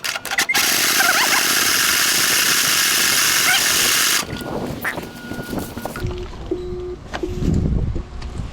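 Husqvarna LGT2654 lawn tractor engine, jumped past a faulty key switch, roars loudly for about four seconds, then drops to a rougher, uneven idle with clanks and handling noises nearby.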